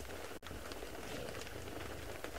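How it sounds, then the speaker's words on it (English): Steady rain pattering on the roof of a building at a wildlife safari camp, a continuous dense hiss that holds evenly throughout, with one brief dip near the start. "it is quite muffled by the pitter-patter of rain on our roof"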